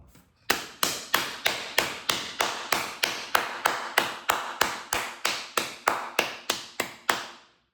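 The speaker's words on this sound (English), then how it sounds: "Round of applause." A steady run of about twenty sharp, evenly spaced claps or taps, close and clear, each decaying quickly, forming a slow deliberate round of applause from a single person.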